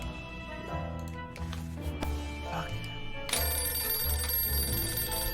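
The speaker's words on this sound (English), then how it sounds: "Phone." A telephone rings in the video game 60 Seconds, a repeated electronic bell tone over game music, with a person talking over it at times.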